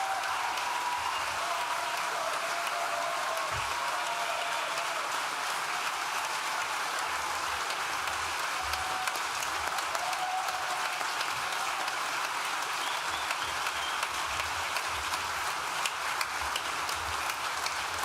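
A graduation ceremony audience for an art and design school claps steadily for the full length, a dense, even wash of applause with no voices standing out.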